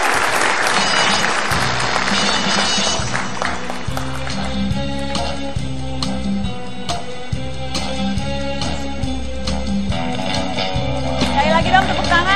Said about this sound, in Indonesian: Lagi dong tepuk tangan